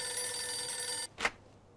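A telephone rings in the Mafia II video game, a steady, tonal electric bell that rings for about a second and then cuts off, followed by a brief click-like sound and near silence.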